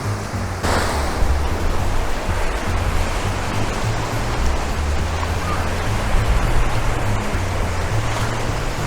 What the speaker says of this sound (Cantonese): 啲海浪都一下一下咁拍過嚟